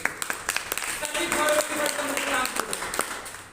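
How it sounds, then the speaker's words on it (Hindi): An audience at a motivational business gathering claps steadily through the whole span, with a voice audible over the applause. "एक हमारे बीच में और बैठे हैं सुनील पांडे सर, चाहूंगा जोरदार तालियां चाहिए सर।"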